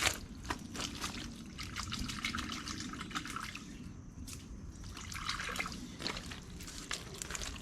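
A fish is rinsed in river water, with splashing, trickling and dripping in irregular bursts over a steady outdoor background, close but fairly soft.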